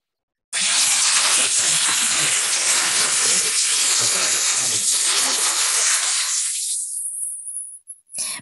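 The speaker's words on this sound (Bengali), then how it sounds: "এরপরে আমি ব্লেন্ড করে নেব। বেশি সময় ব্লেন্ড করব না, অল্প সময়ে।" A blender whips up cold coffee, starting abruptly with a loud, steady whirring roar. After about six seconds it winds down and stops, followed by a faint clatter.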